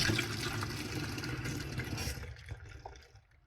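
Water runs into a blender's mixing cup with a couple of drops of cleaning liquid, a close, fairly soft gushing pour that tapers off and fades toward the end.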